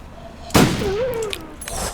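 A single sharp rifle shot in a snowy video game cracks out loud and close, followed by a faint rising whistle-like tail and quiet game ambience.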